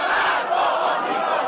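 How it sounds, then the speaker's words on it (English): A large rallying crowd in Iran roars and chants in protest, a dense, loud, sustained wall of many voices with no pauses. "others joining a rallying crowd"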